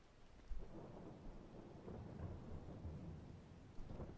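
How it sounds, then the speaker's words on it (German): Rolling thunder in Farming Simulator 22, a low, continuous rumble with steady rain, swelling in a couple of heavier cracks near the start and end, fairly faint and with no talking. "Ich glaube, das zieht gleich ein Gewitter auf. Ziemlich am Donnern hier."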